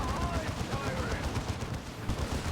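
Psy Cannons firing in the Warhammer strategy game Dawn of War 2: Retribution, a dense clatter of repeated battle blasts and explosions over a busy skirmish, with voices speaking over the fire.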